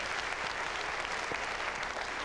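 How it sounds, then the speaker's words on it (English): Audience applause at a hypnosis stage show, a continuous dense patter of many hands clapping, fairly faint and distant, steady across the whole stretch. "give him a round of applause"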